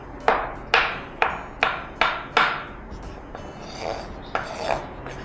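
A knife chops carrots into cubes on a cutting board while kabsa-style rice with carrots is prepared: six crisp, evenly spaced chops ring out close up, followed by a few softer, scattered cuts.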